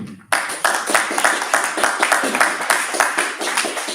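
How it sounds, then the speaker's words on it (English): A modest crowd at a public gathering breaks into applause, a steady patter of clapping hands starting abruptly and continuing evenly at moderate volume. "I want to give you all a round of applause."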